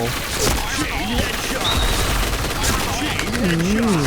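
Rapid bursts of MP9 submachine gun fire in the shooter game Point Blank, sharp repeated shots over game music and effects while someone talks throughout.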